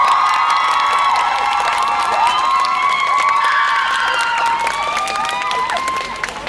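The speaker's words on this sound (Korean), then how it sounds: "여러분들 배우분들 나오실 때 큰 박수와 환영 부탁드리겠습니다" An audience at a musical stage event cheers and whoops loudly and continuously as the actors come on stage, with high excited voices layered over a steady crowd roar that holds for the whole stretch.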